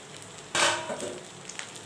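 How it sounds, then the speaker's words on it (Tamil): Okra frying in a pan, with a soft steady sizzle and a brief louder burst of crackling as it is stirred or moved. "வெண்டைக்காய் நல்லா ஃப்ரை ஆகிடுச்சு பாருங்கள்"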